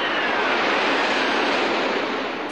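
Tu-160 supersonic bomber in flight, a steady broadband jet roar filling the whole short stretch at constant loudness, with no talk over it.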